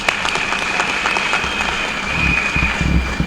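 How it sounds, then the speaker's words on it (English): An audience at a college graduation ceremony in Malawi claps steadily throughout, a dense, even wash of applause from a large crowd with no talk over it. "Let's give them a round of applause"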